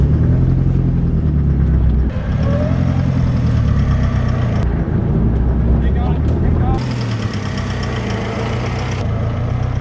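A 4WD vehicle engine rumbles loudly and steadily up close while crossing a flooded stretch of the deep Jardine River on the Old Tele Track, with people calling out directions over it.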